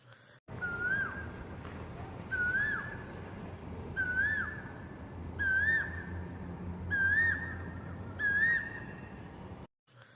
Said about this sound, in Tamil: குயில் எழுப்புற ஒலிய கூவுவதுன்னு சொல்லுவாங்க.